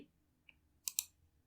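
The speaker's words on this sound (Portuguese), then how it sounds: "Então vou dar um clique duplo aqui." Computer mouse double-clicked while setting up an Arduino pin assignment in LDMicro software, giving two quick, close, crisp clicks with a faint earlier tick in a quiet room.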